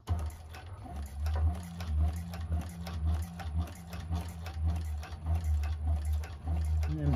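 A 1341 cylinder arm sewing machine stitches the bottom seam of a purse, with a close, steady mechanical chatter and a repetitive ticking pulse running throughout.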